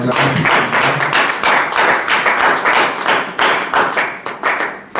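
A congregation at a church service in Brussels claps loudly and rhythmically, with many hands striking in an even, continuous pattern of applause and cheering close by.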